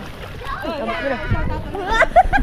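A person jumps into water with a short splash and slosh, heard amid lively children's voices and chatter nearby.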